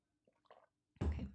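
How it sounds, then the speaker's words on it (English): Water being sipped at a craft table while making cards: a few soft, faint slurps, then a sudden louder close swallow or thud, with no talking. "I gotta take a sip of water"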